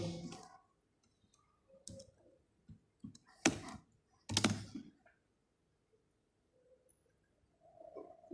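Fingers tap on a computer keyboard in a quiet room, sparse clicks and short bursts of keystrokes with pauses between, close and clear.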